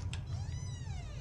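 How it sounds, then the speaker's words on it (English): A single short cat meow from a Five Nights at Freddy's fan game, high and slightly drawn out, heard close and fairly faint over a low background hum. "That's the cat, I can tell. That's the kitty."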